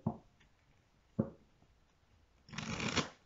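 Oracle cards shuffled for an angel-card reading: two short riffles near the start, then a louder, longer shuffle burst near the end, close and with no talk.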